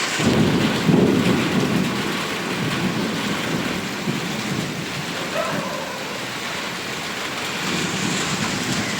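Heavy rain pours down steadily in a residential area, with low rolling thunder rumbling through the downpour, strongest near the start.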